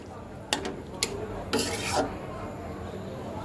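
A bottle gourd and prawn curry is stirred together in a pan, with a few sharp clinks and scrapes of a utensil over a faint background sizzle.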